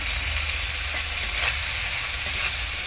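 Prawns with turmeric powder sizzling in a hot pan, a steady, close, bright hiss of frying oil with faint stirring scrapes and no voices.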